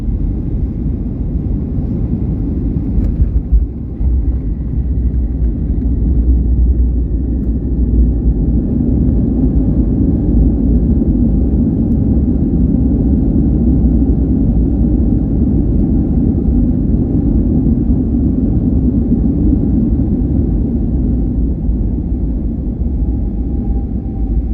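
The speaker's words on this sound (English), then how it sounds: "we're landing onto runway 25L, which is here on the south side of LAX" Steady, loud low rumble of an American Airlines airliner landing on runway 25L at Los Angeles airport, heard from the main cabin, with a sustained engine and roll drone throughout and a faint whine sliding down near the end.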